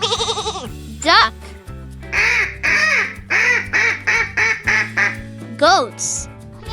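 A cartoon-style duck quacks in a string of repeated calls over a bright children's song with steady backing music, the quacks loud and near, interleaved with other playful animal-like calls.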